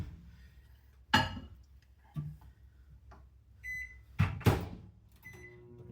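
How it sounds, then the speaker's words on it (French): A microwave oven runs while heating raspberry iced tea for a Jell-O popsicle mix, giving a low steady hum with a few sharp clinks and beeps near the start and again toward the end, with no speech. "on va commencer par mettre ça au micro-ondes, le faire chauffer"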